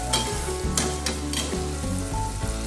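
Carrot pieces fry in oil for a carrot and potato curry, a loud, dense sizzle with bursts of crackle and stirring noises close by.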